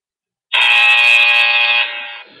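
A tablet's paintball countdown timer plays through a speaker held up close, a loud, harsh electronic buzzer tone that starts suddenly, holds steady for over a second, then steps down and fades.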